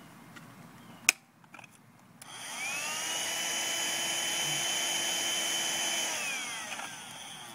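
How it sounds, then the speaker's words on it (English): After a few clicks and a clatter, a vacuum cleaner starts up and runs steadily sucking up squash bugs, a loud whooshing suction roar with a high whine, then begins to wind down. "Vacuum those suckers!"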